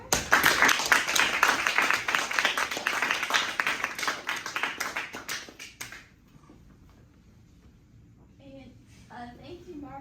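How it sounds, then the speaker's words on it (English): A small group claps for a guest speaker at a storytelling session, with brisk, fairly close hand claps for about six seconds that then stop, followed by quiet room tone and faint talk. "why don't we first give a round of applause to our guest speaker?"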